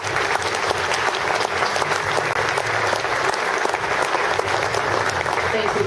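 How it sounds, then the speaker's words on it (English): Steady, dense applause from a banquet audience at a reunion, a full room clapping without pause, close and loud, with some voices mixed into the clatter. "So let's give them a nice round of applause."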